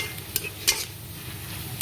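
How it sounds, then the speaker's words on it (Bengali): Onions frying in oil in a kadai, a steady low sizzle with a few sharp clinks of a spoon against the pan. "এবারে আমি এই তেলের মধ্যে পেঁয়াজটা ভালো করে ভেজে নেব।"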